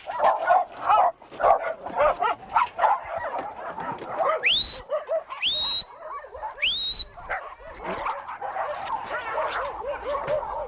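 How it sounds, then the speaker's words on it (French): Several excited dogs arriving for a walk at the Bois de Boulogne park in Paris bark, yip and whimper in close, rapid bursts, with a few high rising yelps in the middle. "Les chiens ne tiennent plus en place."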